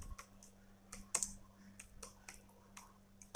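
Typing on a computer keyboard: a run of separate, fairly crisp keystrokes at an uneven pace over a low steady hum, with no talk.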